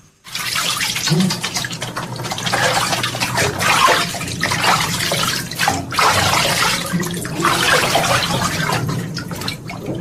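Water pours from an overhead shower rose into a huge bathtub, fed by a pump from a tubewell, as an audio-drama sound effect: continuous, fairly close splashing and rushing that fluctuates in strength.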